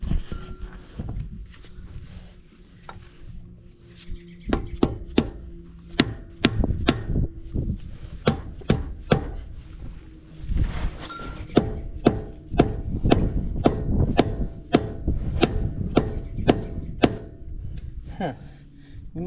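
Mallet hammering on a planter disk in a shop, a long run of sharp, loud knocks, irregular at first then steadier, repeated blows close by with no talk.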